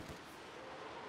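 Artillery fires in the Company of Heroes 2 strategy game, a single muffled distant boom at the start, then a low rumbling battlefield wash with no voice.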